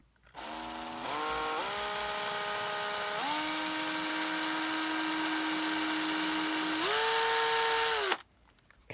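A high-pitched power drill whines steadily for several seconds while drilling a hole in plastic, its pitch stepping up and down as it bites in, then cuts off abruptly.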